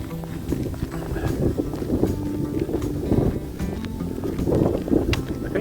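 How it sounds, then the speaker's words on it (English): Steady, gusting wind roars outdoors beside the Sturgeon River on a February walk, with heavy broadband buffeting across the microphone and no speech. "This wind though is miserable."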